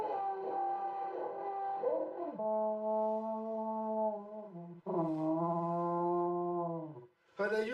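A horn is blown in the mountains to call flocks of sheep, giving long sustained droning tones in a few separate blasts, loud and close, with brief gaps between them.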